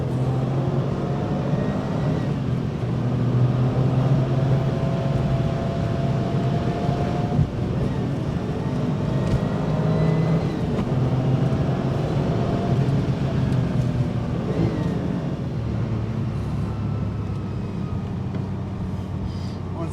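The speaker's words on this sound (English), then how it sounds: "We're coming back here to our favorite road to get on it a little bit to show you how quick this goes." Engine of a 1997 Porsche 911 Turbo accelerating hard on an open road, a steady loud drone with rising harmonic sweeps as it pulls through the gears, continuous throughout without pauses.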